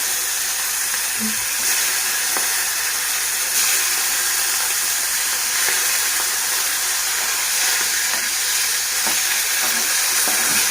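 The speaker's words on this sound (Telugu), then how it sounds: "అదే ఆయిల్లో మనం శుభ్రం చేసి పెట్టుకున్న ఎండు చేప ముక్కలను కూడా వేసుకొని వేయించుకోవాలి" Cleaned dried fish pieces frying in hot oil, a steady broadband sizzle and hiss running loud and unbroken throughout, close to the pan with faint scattered pops.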